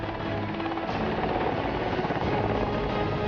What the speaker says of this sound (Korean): UH-60 기동 헬기의 프로펠러 소리가 반갑다